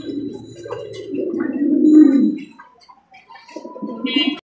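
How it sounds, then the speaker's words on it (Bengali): A pair of Danish pigeons of Pakistani bloodline coo up close in low, throaty rolling phrases that swell and fade, followed by a brief higher chirp near the end, with no talking. "এক জোড়া ড্যানিশ কবুতর, পাকিস্তানি ব্লাড লাইন"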